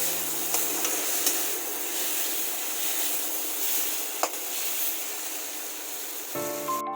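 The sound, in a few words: tomatoes frying in a pan for momo chutney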